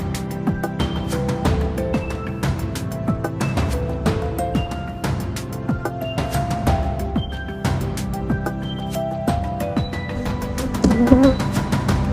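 Honeybees swarm around a beekeeper at the hives, a loud, close, continuous droning buzz with shifting pitches as individual bees zip past.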